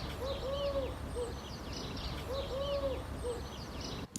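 Collared dove cooing in a three-note phrase, repeated twice in a steady rhythm, moderately close over a constant low hum of outdoor background noise.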